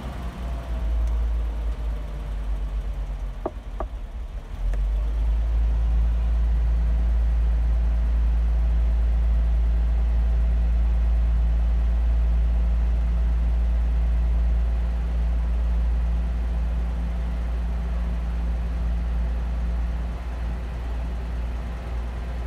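A Toyota Land Cruiser 45 with a 2F engine runs steadily at idle, a loud, close, continuous low rumble with a brief dip early on before settling into an even drone, no talking.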